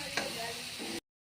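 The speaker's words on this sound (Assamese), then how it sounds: "এইফালে ফুচকাকেইটা ভাজি আছোঁ মই" Phuchka puris frying in hot oil, a steady close sizzle and hiss with a brief clink early on, cut off abruptly near the end.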